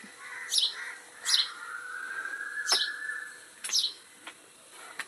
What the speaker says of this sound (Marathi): चिव चिव चिमणी